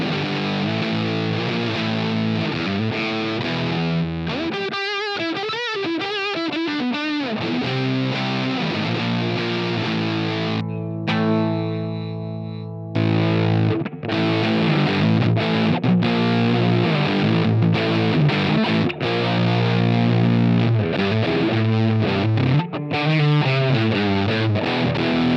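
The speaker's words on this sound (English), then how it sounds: "So it's a rat style distortion and it's just nice and fat." Electric guitar on the bridge pickup runs through a Retro Sonic rat-style distortion pedal, giving thick, fuzzy chords and riffs that play continuously, with a brief held note before the strumming resumes.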